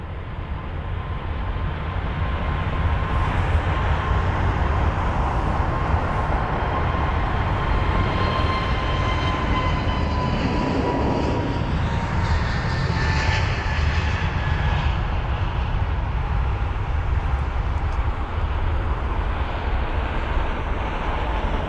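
British Airways flight BA662, a five-year-old jet airliner, rolls at Heathrow with a loud, steady engine roar and a rising whine that swells toward the middle and holds on, with no voices over it.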